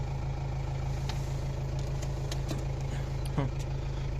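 A Renault Trafic 2.5 diesel van engine idling steadily with a low, even rumble, faint and constant, with a few small clicks over it.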